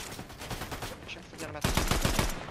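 Rapid bursts of gunfire in a Fortnite competitive match, dense crackling shots that grow louder and heavier in the final second, with players' voices underneath.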